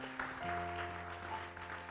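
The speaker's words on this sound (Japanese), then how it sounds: "大きな拍手してください。" Congregation at a church service breaking into applause, a dense wash of clapping that holds steady throughout, with a sustained musical tone underneath.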